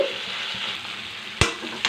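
Steady hiss of tomatoes frying in a pan, with a brief louder clatter of stirring near the end; no voices.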